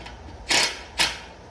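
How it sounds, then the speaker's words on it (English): Two quick ratcheting bursts from a wrench backing out bolts on a seat assembly during a re-sling job, each a short close mechanical whirr separated by a brief pause, with no talking. "all I'm going to do is back all 4 of those bolts out about 1/2 inch"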